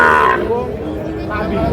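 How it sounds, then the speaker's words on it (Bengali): A Sahiwal bull at a cattle market gives a loud, low moo that starts strong and trails off into a drawn-out groan, with market noise behind it. "আমরা এই পাশে দেখছি একটা সুন্দর সাইজের শাহিওয়াল ষাঁড় গরু"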